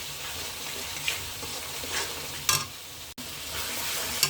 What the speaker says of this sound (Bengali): এর ভিতরে একটু হালকা পানি দিয়েছি, দিয়ে এখন মশলাটা কষিয়ে নিচ্ছি